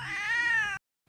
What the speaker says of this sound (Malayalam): ഇത് ഡുട്ടു, നമ്മുടെ ആദ്യം ഉണ്ടായ പൂച്ചയാണ് കേട്ടോ